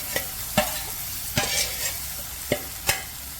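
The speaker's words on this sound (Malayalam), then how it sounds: "ഇത് നല്ലപോലെ ഒന്ന് പച്ചമണം പോകുന്നത് വരെ നമുക്ക് ഇളക്കി കൊടുക്കാം." A green chili, garlic, ginger and coriander paste is stirred and fried in a pan, with a soft steady sizzle broken by sharp, irregular spoon scrapes and knocks against the metal, all close and with no voices.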